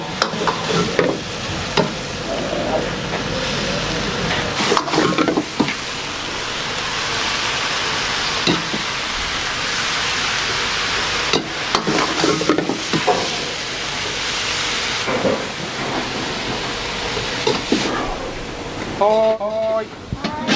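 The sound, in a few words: stir-frying sara udon noodles in a wok, sizzling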